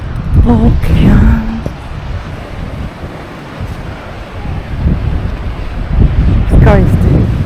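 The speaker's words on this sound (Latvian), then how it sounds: "Okeāns." Steady broadband roar of Atlantic Ocean surf at Câmara de Lobos mixed with gusting wind on the microphone, with brief bursts of talk near the start and end.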